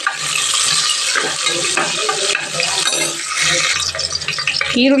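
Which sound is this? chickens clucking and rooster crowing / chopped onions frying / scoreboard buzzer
chopped onions frying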